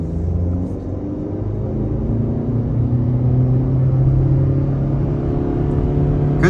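A 2023 Honda CR-V EX-L with a 1.5 turbo accelerates at about a third throttle, a smooth rising engine drone with rumble and road noise heard from the cabin, growing slightly louder as it pulls.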